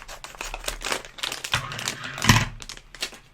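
Plastic packaging of an electronics kit being cut open with scissors: close, irregular crinkling, snipping and rustling bursts, with a sharper crunch near the end, no talking.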